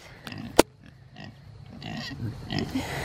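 Pigs on a small farm, including kunekune, give a few close oinks and grunts, with one sharp squeal-like snort early on and a busier stretch of low grunting and shuffling toward the end.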